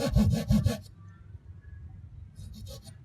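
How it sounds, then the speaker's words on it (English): Hacksaw cutting part way into a wooden crankbait body: a few quick, rasping back-and-forth strokes up close, then a quiet pause and a couple more light strokes near the end. "take my hacksaw. I'm going to cut part way through,"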